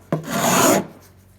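A chisel scraping sticky body filler off a 1950 Plymouth in one rough, rasping stroke lasting under a second, close and loud, then quiet.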